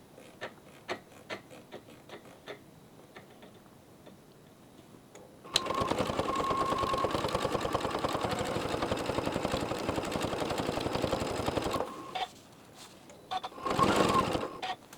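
A sewing machine stitches a quilt-as-you-go side seam with fast, steady whirring that runs for several seconds, then stops and starts again briefly, with faint ticking clicks in the quieter stretch before it.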